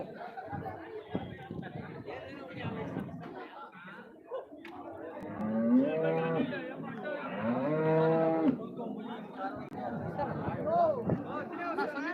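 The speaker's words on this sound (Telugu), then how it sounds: "ఈ ఆవులంతా కూడా తీసి కట్టేసి పెట్టినావు" Cows moo loudly and repeatedly at a busy, crowded cattle market in Chintamani, with long drawn-out calls rising above steady crowd chatter and people talking nearby.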